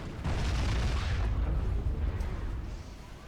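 Explosions in the strategy game Supreme Commander: Forged Alliance, a loud, dense rumbling boom that sustains for about three seconds and then slowly fades, with no talk.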